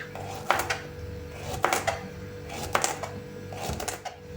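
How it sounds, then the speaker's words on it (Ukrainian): Knife slicing trimmed cucumbers into 5 mm rounds on a board, with four distinct crisp cutting thumps spaced about a second apart over a low kitchen hum, close and fairly quiet. "Хвостики обрізаємо і нарізаємо пластинками 5 мм."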